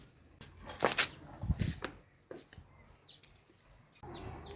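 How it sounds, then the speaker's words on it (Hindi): A hen clucks in short bursts near the microphone, with a few brief chirps and thumps in between, and fuller background noise at the end. "वो एक दूसरी मुर्गी थी हमारी, वो वाली"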